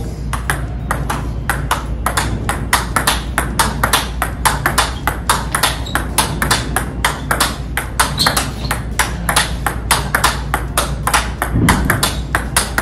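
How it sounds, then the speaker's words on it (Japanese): Table tennis ball struck in a rapid rally of cross-court forehand drives, giving dozens of crisp, evenly spaced clicks and pings close by, with faint room noise between hits. "いい打球音してるね"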